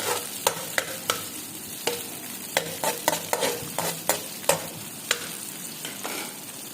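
Filling for a chicken roll being sautéed and stirred in a pan: a steady background sizzle broken by frequent sharp spatula scrapes and clacks at an uneven rhythm, close and moderately loud, with no voices.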